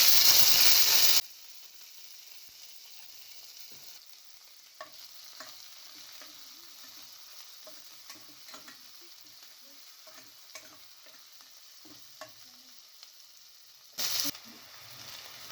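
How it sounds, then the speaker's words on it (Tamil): Chopped shallots and green chillies fry in oil with fennel and bay leaf for a vegetable kurma, giving a soft, steady sizzle with scattered spoon-stirring clicks and a couple of louder bursts. "வெங்காயம் வதங்கிருச்சு"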